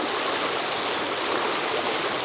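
Shallow riffles of a trout stream on the Menominee River, only a few inches deep, rush and babble in a steady, close, unbroken wash of water with no voices.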